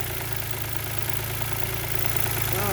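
A car engine idles with its mass airflow sensor and air temperature sensor disconnected, running off manifold pressure: a steady, close, loud mechanical hum with a faint regular pulse throughout.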